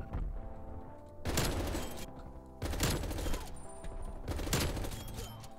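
Fara AR assault rifle fired in a video game, with three rapid full-auto bursts, each lasting about a second, loud and close, separated by short pauses.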